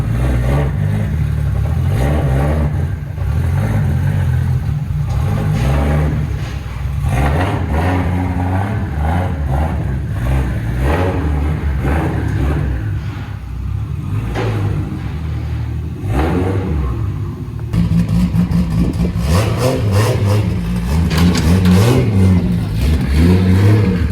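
A Nissan Laurel drift car fitted with an angle kit revs hard as it climbs onto a trailer, its engine loud and close, surging and clattering continuously and building further toward the end.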